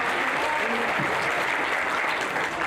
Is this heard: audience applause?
yes